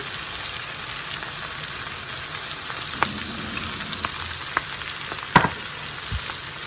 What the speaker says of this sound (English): we're going to saute this all together for probably about 15 minutes or so, stirring intermittently, so it all gets cooked down nicely